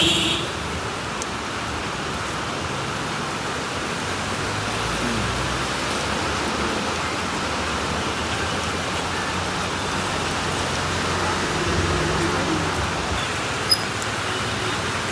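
Heavy rain pours down steadily on a roadside fish stall in Trivandrum, a dense, even hiss drumming on surfaces throughout with no letup.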